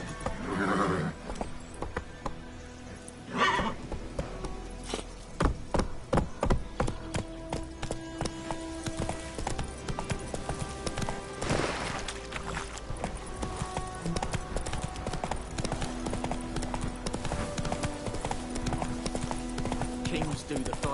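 Roach, a horse in The Witcher 3, gallops with rapid rhythmic hoofbeats and occasional whinnies, steady and fairly close, layered with game music and bursts of voices.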